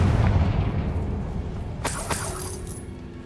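A Confringo spell blast in Hogwarts Legacy crackles and booms amid dense, continuous game noise, with sharp shattering bursts partway through.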